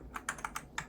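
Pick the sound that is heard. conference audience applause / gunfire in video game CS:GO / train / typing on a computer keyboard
typing on a computer keyboard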